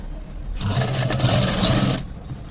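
A sewing machine runs a straight stitch on a Punjabi dress, one steady whirring burst of about a second and a half starting and stopping abruptly, close and clear with no talking.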